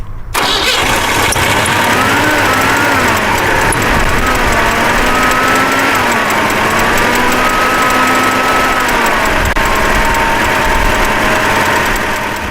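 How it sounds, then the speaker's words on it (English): An air-cooled V4 engine running on LPG cranks, catches and settles into a loud, steady mid-pitched idle with slight wavering in tone, heard close and alone. "let's try starting it on pure gas"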